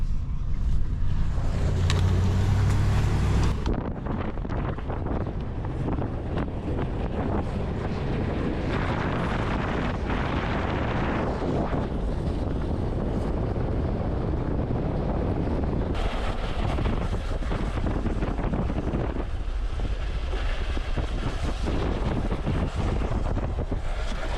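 A truck dragging its tires runs laps on a track, giving a continuous roaring drive with heavy wind rush on the microphone, loud and sustained with shifts in intensity.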